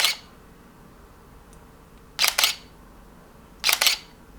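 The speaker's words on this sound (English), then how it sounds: "Even starting with the shutter sound, Canon has this very clinical, digital and somewhat unpleasant sound" Three crisp Canon Rebel T1i (500D) DSLR shutter actuations, each a quick double click with a clinical, digital sound, spaced a second or two apart against a quiet background.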